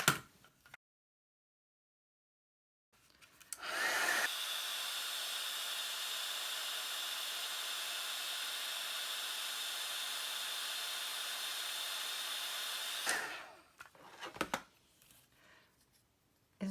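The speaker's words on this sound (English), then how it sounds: "And then you're going to heat set it with your heat tool." A heat tool blows hot air for about nine seconds to heat set embossing on a handmade card, giving a steady, even whoosh between quiet handling noises.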